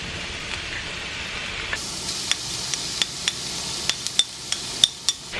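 Tofu sizzles steadily in a hot frying pan, with a run of sharp scraping clicks from stirring that grows busier partway through.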